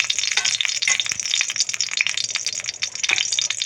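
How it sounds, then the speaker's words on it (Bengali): Ghee heating in a kadai while making jaggery payesh, a steady close crackling sizzle with dense bubbling spits throughout and no talking. "তো কড়াতে আমি ঘি দিয়ে দিয়েছি।"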